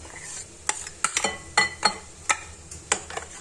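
Cake batter being stirred after melted chocolate is poured in for a chocolate fondant, giving a series of close, wet scraping strokes against the bowl at an uneven rhythm with no talking.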